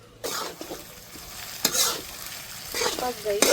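Okra frying and sizzling in a pan in a home kitchen, with a steady crackling hiss and bursts of stirring scrapes, close and moderately loud, no talking.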